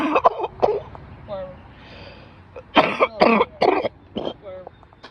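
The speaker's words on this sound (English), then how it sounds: "I was coughing." Several harsh coughs, a couple early and a louder cluster later, with some throat clearing and breathy sounds in between; close and fairly loud.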